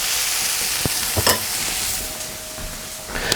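Onions cooking down in a pan for lamb kofta, a steady soft sizzle with a few clinks and scrapes of a utensil against the pan, heard alone without talk.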